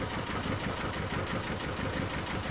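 Inboard engine of a Morgan 28 sailboat running steadily while cruising, a close, continuous throbbing drone with a fast even pulse and no voices over it.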